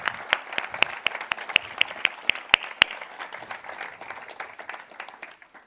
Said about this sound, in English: if we can just please give them one round of applause